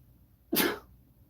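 A single sharp sneeze bursts out close by, short and loud against an otherwise quiet background.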